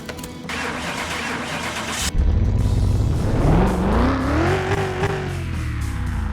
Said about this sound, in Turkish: Bir marşına basıp deneyelim.